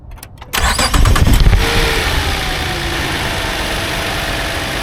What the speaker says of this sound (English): So let me start the car now.